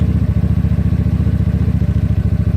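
A GY6 scooter engine runs close by with a loud, steady, rapid pulsing throb that holds an even pace without any clear rise in revs, with no talking.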